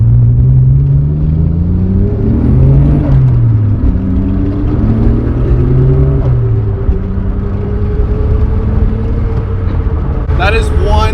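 A 1992 Nissan Skyline GT-R R32 with a Pandem Rocket Bunny kit and an RB26DETT engine pulling through the gears with rising, falling revs, a quiet exhaust and a brief turbo blow-off near the end. A person talks over it.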